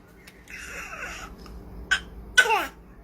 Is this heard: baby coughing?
yes